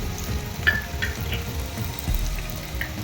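Onion dropped into cumin sizzling in hot oil for a potato bhaji, a steady soft frying hiss with a few light clicks and stirring taps, close and moderately quiet with no talking.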